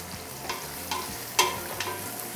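Onions sauté in a pan for chicken mandi, with soft sizzling and several sharp scrapes and clinks of a spoon stirring against the pan.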